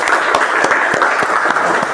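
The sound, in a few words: applause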